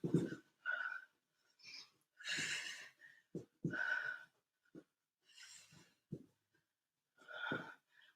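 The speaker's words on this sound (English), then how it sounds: "Breathe." Heavy breathing during a stability ball workout, a series of audible inhales and exhales in uneven bursts, close and fairly quiet, with brief pauses between breaths.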